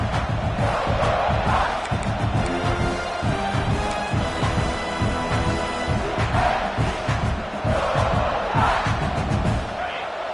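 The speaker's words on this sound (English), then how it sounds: "this crowd trying to help keep them there" A large stadium crowd at a football game roars continuously, loud and sustained with swelling whoops and cheers as the home fans try to keep the opposing offense pinned deep in its own end.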